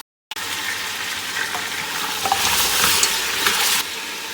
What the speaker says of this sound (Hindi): इनको हम लोग 2 से 3 मिनट के लिए अच्छे से भूनेंगे, फ्राई करेंगे घी में